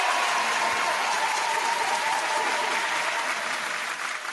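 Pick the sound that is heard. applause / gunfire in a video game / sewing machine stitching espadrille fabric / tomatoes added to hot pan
applause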